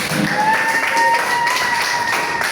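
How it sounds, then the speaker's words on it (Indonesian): A class in a Pancasila education lesson claps hands together, a light scattering of taps blended with a faint tonal hum, moderately loud and without clear speech over it. "Oke, tepuk tangan, terima kasih."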